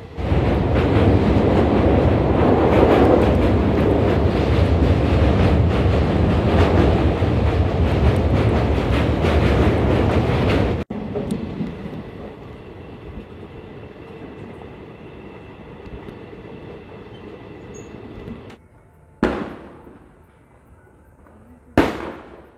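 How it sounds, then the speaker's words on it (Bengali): Gour Express pulls into Naihati station. A loud, steady rumble of the running train fills the first half, then drops to a quieter hum with a few sharp bangs near the end. "চলুন বন্ধুরা, আমাদের এই গৌড় এক্সপ্রেস চলে এসছে তার সেকেন্ড লাস্ট স্টপ নৈহাটি।"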